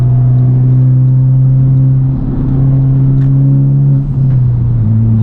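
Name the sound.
Honda Civic Type R accelerating through shifts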